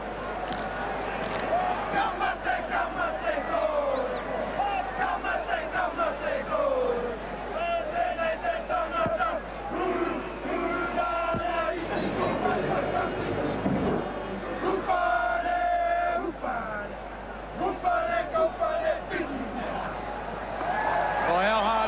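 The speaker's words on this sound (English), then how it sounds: "Here they are, the New Zealand side, glorious in defeat with a haka." The New Zealand rugby league team performs a haka at a 1986 test match against Australia, rhythmic chanted shouts from the players rising over a steady stadium crowd roar, with a commentator talking over it.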